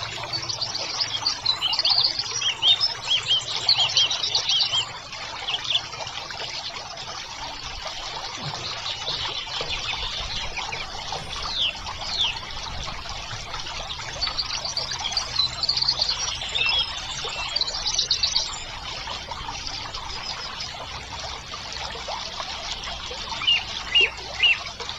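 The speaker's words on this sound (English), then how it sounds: "Then pour some water." Water trickles and splashes steadily while being poured onto a potted basil (tulsi) plant, with faint bird chirps in the background and no talk.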